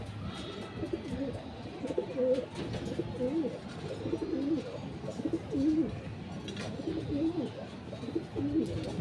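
A racing pigeon arrives at a day bird race lap in Catbalogan and coos repeatedly in soft, throaty rhythmic phrases, close and moderately loud over light background noise.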